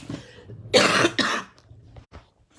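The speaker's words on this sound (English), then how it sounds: "I have got a bit of a cough" A person coughs twice in quick succession, close and fairly loud, with a few faint breaths and small rustles around it in an otherwise quiet room.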